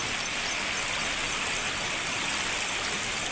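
Floodwater rushes steadily through waterlogged streets, a dense, continuous roar of flowing water with no pauses and no voices.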